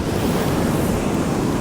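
Ocean waves and surf rolling onto a beach near a WWII coastal defense fort in cold weather, a loud continuous wash of foamy water mixed with wind noise on the microphone, with no voices.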